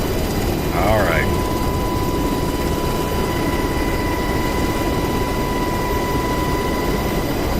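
A UH-60L Black Hawk helicopter in DCS World hums with a steady turbine engine and rotor drone, loud and constant throughout, with a brief chirping tone near the start.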